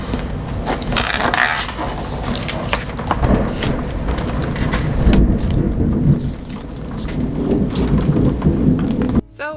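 Thunderstorm in Indiana with steady heavy rain and rolling rumbles of thunder filling the background continuously, loud and close, with a brief voice near the end.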